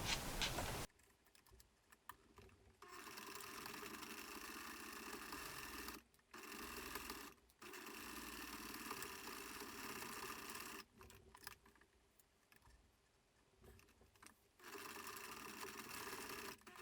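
A sewing machine top-stitches along the long edges of a fabric headband, a soft, rapid mechanical patter running in several long stretches broken by brief pauses, quiet and close with no voices.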